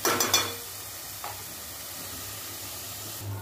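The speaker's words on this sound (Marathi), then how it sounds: "मीडियम टू लो गॅसवर ही कांद्याची पेस्ट भाजून घेऊया।" Onion paste with bay leaves frying on medium-low gas for Andhra-style sambar: a few quick stirring scrapes at the start, then a steady, quiet sizzle and hiss, ending with another soft scrape.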